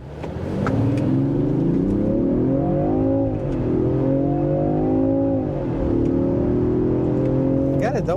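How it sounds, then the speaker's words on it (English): A 2023 Range Rover Sport accelerates hard from a stop, its engine note climbing through several gear changes in a loud, steady surge heard from inside the cabin, with faint talk over it. "let's see how this vehicle accelerates"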